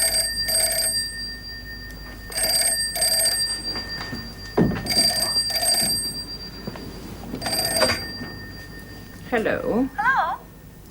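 A telephone rings in repeated double bursts of electronic bell tone, four rings spaced about 2.5 seconds apart, with voices talking between and over them.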